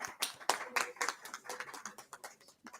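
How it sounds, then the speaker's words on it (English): Scattered clapping from an audience at a summit event, a few hands striking in an uneven rhythm over about three seconds, fairly close and moderately loud, with faint speech underneath. "I think we all can join this beautiful girl still clapping for all of us."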